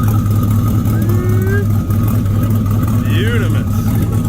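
A turbocharged Chevrolet Silverado engine drones loudly at a steady idle on a dyno, with a low constant rumble, while people talk nearby over it.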